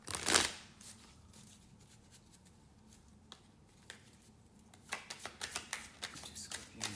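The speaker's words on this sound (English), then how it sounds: "I'm gonna do one more shuffle." Tarot cards are shuffled by hand, a brief riffle at the start, then a quiet pause, then a run of soft, rapid card flicks and slaps close by, faint overall with no talking.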